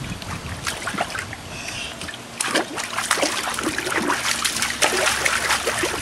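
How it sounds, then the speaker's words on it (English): A young child splashes water in a backyard play pool, making irregular slaps and trickles that grow busier and louder partway through, with light outdoor background noise. "Go ahead and splash."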